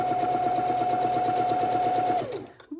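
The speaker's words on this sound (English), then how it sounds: "Up the next corner, sew across." Sewing machine stitching across a snowball quilt block, a rapid steady whirring run of needle strokes up close that stops near the end.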